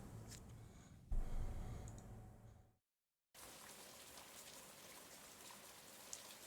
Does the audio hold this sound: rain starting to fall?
yes